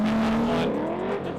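A drift car drives past close by, its engine note rising and sliding in pitch as it goes by, loud and without talk.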